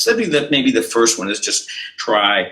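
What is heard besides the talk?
No everyday noises stand out.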